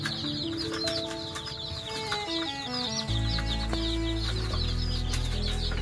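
Colourful pure desi chicks on a poultry farm, a dense chorus of high chirps and peeps running throughout, close and continuous over a steady low drone and tonal background sounds.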